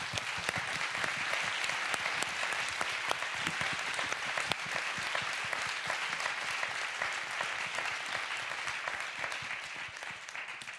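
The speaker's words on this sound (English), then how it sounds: "So I want you all to give a big applause for them." Sustained audience applause for women activists at a conference on women and war, dense steady clapping from a large crowd, fairly close and even in loudness throughout with no talk.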